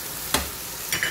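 Chicken and vegetables with salt, turmeric, masala, black pepper and curry stirred in a hot pan, giving two short scraping stirs over a soft, steady sizzle.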